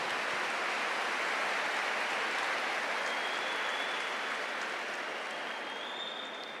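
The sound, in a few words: applause for the person sitting next to you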